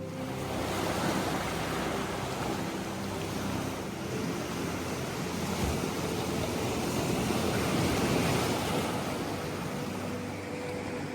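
Sea waves wash steadily onto Monmouth Beach by a limestone ledge, a continuous soft roar of surf mixed with light wind, fairly distant and faint, with no voices.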